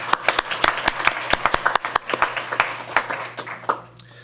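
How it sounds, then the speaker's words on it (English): Sparse applause at a school board meeting, a small group clapping unevenly with distinct sharp hand claps, fairly close, over a low steady hum. "Let's give Anita a round of applause"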